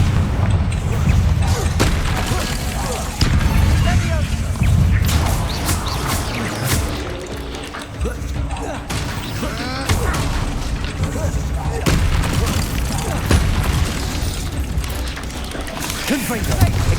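Heavy Confringo fire spell blasts from Hogwarts Legacy combat, a dense, continuous barrage of loud booms, crashes and whooshes layered over game music and effects with no break in intensity.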